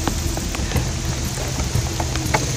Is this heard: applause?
no